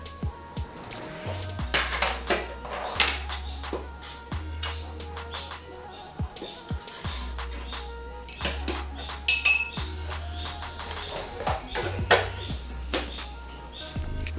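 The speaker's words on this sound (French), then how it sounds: "J'ai mis 2 cuillères à soupe de lait. Je mélange bien." A spoon stirs milk into madeleine batter in a bowl, giving repeated clinks and scrapes against the bowl in an irregular rhythm, close and moderately quiet, with no talking.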